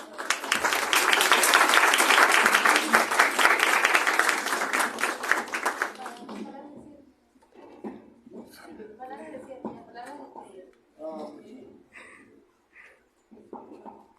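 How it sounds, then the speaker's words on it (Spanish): Audience applause at a sociology colloquium student panel fills the first six seconds loudly, then fades out as a person begins speaking alone. "Aplausos."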